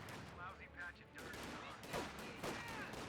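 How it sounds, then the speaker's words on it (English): Rifle squads trading fire in the strategy game Company of Heroes 2, with several overlapping gunshots and bursts sounding at moderate distance beneath a busy battlefield mix, with voice chatter in the background. "Rifle squads engaging, 9 out of 10 of them. Other models are firing."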